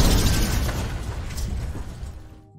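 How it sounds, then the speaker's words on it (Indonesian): A helicopter blows up in a loud, rumbling explosion that slowly fades as debris and a low roar die away. "John pun menyerang anak buah Gabriel hingga helikopternya meledak."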